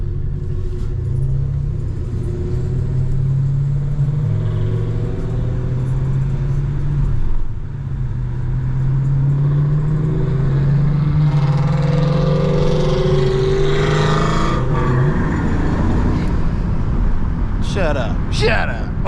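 A Ford Mustang engine revs loudly nearby on a lively Friday-night street, a steady low rumble that swells and climbs in pitch, with someone talking over it.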